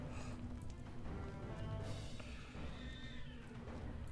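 Cat meowing amid video game background sounds, a few moderate meows layered over a steady bed of game music and ambience, heard during fantasy adventure gameplay set in Mordor.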